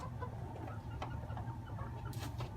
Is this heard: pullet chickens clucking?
yes